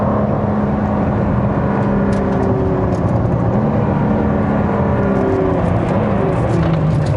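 A hypercar engine strains at full throttle while stuck in limp mode, producing a constant, loud, labored drone with slowly shifting tones and little sign of rising revs.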